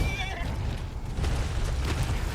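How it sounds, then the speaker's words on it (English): Horse neighing in the video game Ark Survival Evolved, a loud, close whinny heard alone over a steady game background. "This poor horse was like, ah!"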